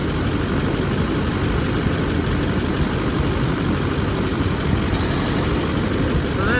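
A GM heavy-duty truck engine idles steadily and loudly up close, a constant low rumble with a faint whine near the end as the steering wheel is turned lock to lock.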